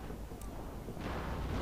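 A cannon volley fires in a video game, a faint, distant broadside that swells into a rushing rumble partway through, heard alone over a low hiss.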